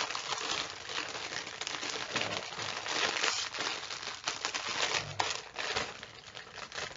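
Plastic bag of Funko Mini blind box figures crinkles and rustles steadily up close, with dense continuous crackling and scattered sharper crunches throughout.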